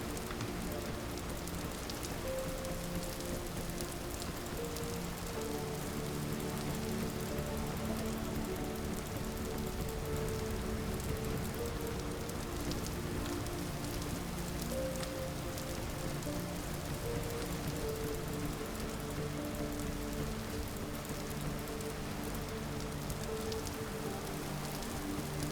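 Rain falls steadily in the game Vintage Story, a dense, even patter on surfaces running unbroken throughout, with faint tonal game music underneath.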